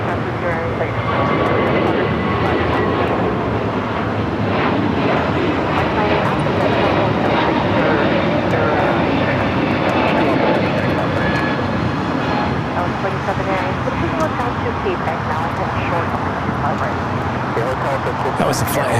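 An Airbus A321neo on its takeoff roll from Los Angeles International Airport, bound for Chicago O'Hare, with a loud, sustained engine roar that holds steady throughout, and people talking over it.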